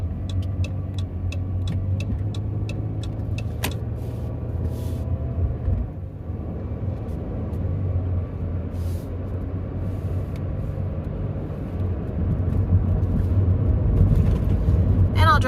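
A van drives slowly through the streets of Quartzsite, Arizona, its low engine drone and road rumble steady throughout, with a few faint ticks early on and the engine swelling louder near the end.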